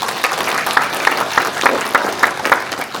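Audience clapping at an apartment reconstruction association general assembly, a moderate round of applause with individual claps standing out in a fairly regular patter, heard from a short distance without talk over it.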